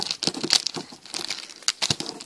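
A candy wrapper is torn open with teeth, making close, crisp crinkling and tearing bursts in irregular clusters, with no talking.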